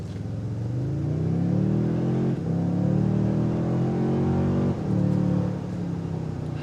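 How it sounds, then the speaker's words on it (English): A 2022 Toyota Tundra 1794 Edition with a twin-turbo V6 pulls away from a stop at full throttle, its engine note climbing loudly and steadily through two gear changes, close and alone. "Stopping in the middle of the road, give her full gas."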